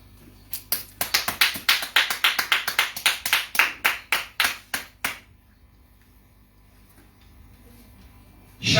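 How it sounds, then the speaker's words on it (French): A church congregation claps together in a brisk, steady rhythm of loud, close claps that stops abruptly, leaving a quiet room. "Acclame d'abord."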